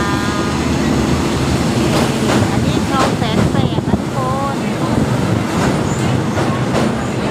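A train running on the Bangkok railway line from Hua Lamphong to Bang Sue, rumbling and clattering loudly nearby with brief wheel squeals, while someone talks over it.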